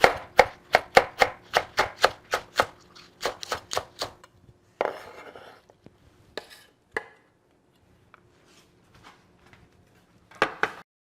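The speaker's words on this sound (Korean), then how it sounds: "파는 어서 썰게 해주시고요" Green onions chopped with a knife on a board, a quick run of crisp, evenly spaced close taps, then a pause, a few scattered cuts and a short final burst.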